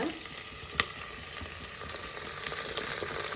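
Sliced onions and a little mint frying in a pan for coconut milk rice, a steady close sizzle with faint crackle and a single louder spatter near the start, no talk.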